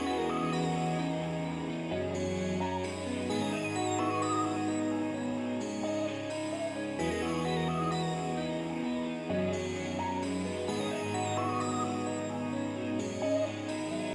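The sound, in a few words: two synth guitar melodies together, Serum preset with delay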